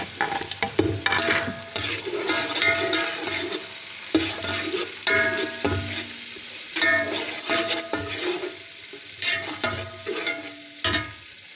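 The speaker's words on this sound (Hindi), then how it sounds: "अब इसमें मैं डालूँगी कुटे हुए 2 टमाटर" Crushed tomatoes hit browned ginger and garlic in a pan for chicken pulao, sizzling and frying up close while a spoon stirs in repeated scraping bursts.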